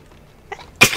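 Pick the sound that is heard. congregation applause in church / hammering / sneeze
sneeze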